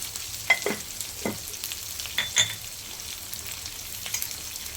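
Something fries gently in a pan with turmeric added, a faint low sizzle punctuated by a few brief utensil clinks and scrapes, close and quiet, no talk.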